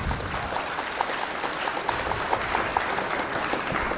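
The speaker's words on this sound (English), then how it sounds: "Been applauding a lot of safeties." Spectators at a pool challenge match clap for a good safety shot, a steady moderate round of applause from a modest crowd, held evenly throughout.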